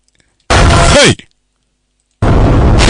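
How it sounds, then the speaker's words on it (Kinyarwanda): A fuel tank explodes in a loud, sudden blast that lasts about half a second, then a swooping tone sweeps downward and the sound cuts off. Silence follows, then another loud roaring burst starts. "akadege katangiye guturika tanka ya benzine yaraturitse"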